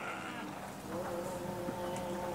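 Goats bleat at a goat farm in Dubai, their calls drawn out and overlapping against a steady background, fairly close and moderately loud, with no one speaking.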